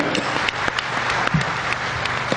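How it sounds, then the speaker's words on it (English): Audience applause during an Indian Union Budget 2018 analysis talk, a steady dense wash of clapping with some sharper individual claps, fairly loud and continuous throughout. "Give a big round of applause to India."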